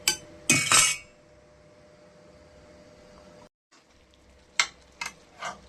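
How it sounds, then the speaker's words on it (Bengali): Mutton being sautéed and stirred in a pan, with a few sharp scraping and clinking bursts of a utensil against metal, then a quiet stretch and more short stirring knocks near the end. "এই দেখুন বন্ধুরা, মাংস কষানো চলছে আমাদের।"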